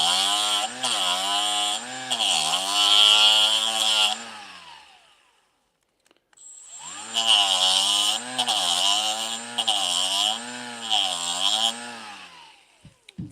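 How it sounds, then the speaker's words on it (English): A Milwaukee rotary grinder works a Canik MC9 pistol part with a light touch, giving a high, tonal whine in two long passes separated by a few seconds of silence, its pitch wavering as the load changes. "Very gentle touch with our grinder."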